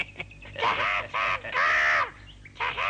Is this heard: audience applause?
no